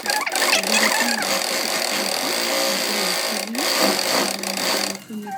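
A sewing machine stitching elastic into a palazzo waistband runs loud and close in a steady mechanical whir, pausing briefly near the end.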